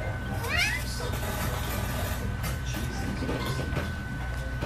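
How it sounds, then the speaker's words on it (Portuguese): A small yellow kitten meowing, one short rising mew near the start, close but modest in level, over a busy background of noise and clatter. "Temos um gatinho amarelo agora."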